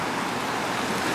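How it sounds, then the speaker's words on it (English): The Uncompahgre River flowing past the riverwalk in Ouray at dusk, a loud, steady, rushing wash of water with no breaks, close by and with no voices over it. "Get a bit of a river here."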